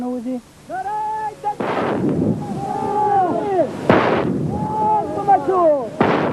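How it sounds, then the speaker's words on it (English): Rockets and artillery firing over Kabul during wartime shelling, heard as a few sharp, loud booming blasts spread through the clip, with a voice talking over the bursts throughout. "The rockets which fall on the city are fired by the Taliban with their habitual enthusiasm."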